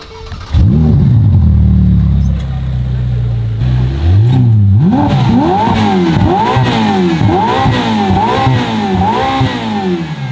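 A Ferrari F8 engine revs hard several times in quick succession, the exhaust roaring loud and close with rising and falling pitch.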